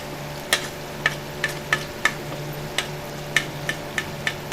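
Tomato masala sizzles steadily in a pan as red chilli and turmeric go in, with a string of sharp spoon clinks against the pan striking roughly twice a second over the constant frying hiss.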